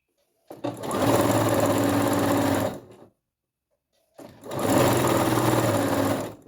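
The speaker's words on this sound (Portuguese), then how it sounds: "você vai costurando e observando aqui, ó, o calcador acompanhando o tecido" A sewing machine stitches the hem of fabric in two loud, close bursts of steady whirring, separated by a short pause.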